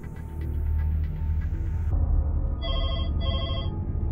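A telephone rings in a news report on phone calls with a militant holding hostages in London: two clear electronic ring bursts over steady low hum and rumble, fairly close and alone, with no voices.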